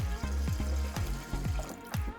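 Water poured into a pot of lentils sautéed with onion and curry powder, a steady close gush with faint sloshing and a few soft knocks, no voices.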